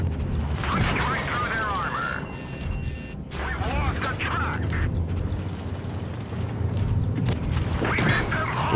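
Tank cannon shots and impacts in the mobile game World of Tanks Blitz, several heavy booms and crashes scattered through a busy mix of game audio with a voice talking over the action.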